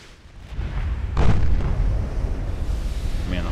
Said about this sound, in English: there's an ammo detonation